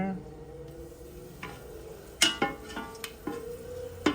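Carpuli leaves dropped into hot coconut oil in a pot, giving a soft sizzle with several sharp crackles and pops close by, over a low background hum and without talk.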